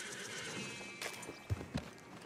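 Horse in the Red Dead Redemption 2 video game, a faint blowing snort followed by two distinct hoof thuds against quiet ambient background, with no speech.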